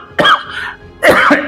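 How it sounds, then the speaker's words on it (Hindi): A man recovering from a lingering illness with typhoid gives two close, loud, hacking coughs about a second apart. "खांसी से बहुत दिक्कत हो रही है"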